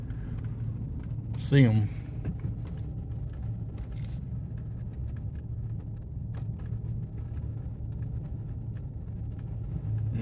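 Car rolling slowly along a wet dirt road, a low steady interior engine and tire rumble throughout, with a person talking and brief squeaky noise early on.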